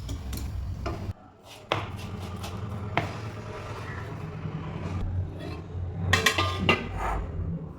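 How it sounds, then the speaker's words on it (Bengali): Aloo paratha dough being cut into portions, a few sharp knocks of a blade against a board or plate at irregular intervals, close and fairly loud over a low kitchen hum, with no talk. "এইভাবে লেচি কেটে নেব।"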